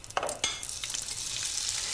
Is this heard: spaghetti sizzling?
yes